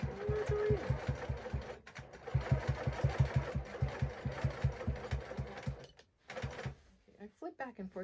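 A sewing machine stitches in the ditch on a quilt, its needle hammering in a steady fast rhythm that pauses briefly and resumes, with a voice talking over it and a ruler being handled near the end.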